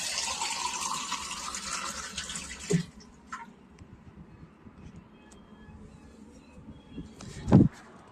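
Water running from a drinking water tap on a hillside path, a steady hiss of flowing water that stops partway, followed by quieter ambient noise and a few handling thumps.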